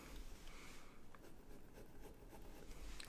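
Scratching of a black gel ink pen writing on paper, a soft, steady, close scratch that is quiet and continuous and alone, with no talking.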